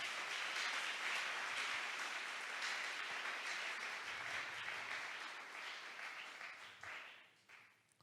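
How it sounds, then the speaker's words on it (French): A church congregation at a Sunday worship service bursts into loud, sustained applause close around, the clapping rolling on steadily before gradually thinning and fading out near the end. "Est-ce qu'on peut applaudir très fort pour le Seigneur?"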